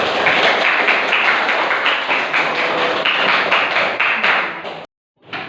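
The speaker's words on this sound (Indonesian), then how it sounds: "Bagus, kasih aplaus." A classroom group claps steadily for a student performance, a dense run of hand claps that stops abruptly near the end before a brief resumption.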